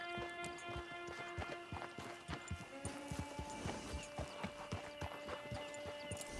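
Horse hooves clip-clopping steadily in the Red Dead Online game, a regular rhythm of close, moderately loud hoofbeats over a constant musical drone.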